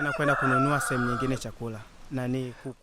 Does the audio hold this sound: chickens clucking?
yes